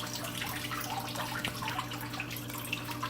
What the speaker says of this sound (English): you'll hear it flush in a second